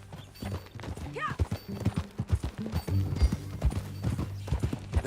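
A horse's hooves clip-clop at a steady walking rhythm in Red Dead Redemption 2, close and clear, with a brief whinny-like call and low ambient game sound.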